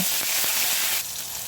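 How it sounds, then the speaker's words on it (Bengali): Dried red chilies, then onions, green chilies and garlic frying in hot oil in a home kitchen, giving a close, steady, hissing sizzle that drops slightly in loudness partway through, with no talking. "তেলটা গরম হয়ে গেলে আমি কিছু শুকনা মরিচ দিয়ে দেবো শুকনা মরিচ ভাজা হয়ে গেলে আমি পেঁয়াজ কাঁচামরিচ দিয়ে সুন্দর করে নেড়ে চেড়ে"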